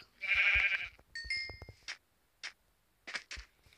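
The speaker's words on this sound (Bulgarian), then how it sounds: "Ето овцата." A Minecraft sheep gives one loud, close, wavering bleat, followed by a few sparse clicks and soft in-game taps.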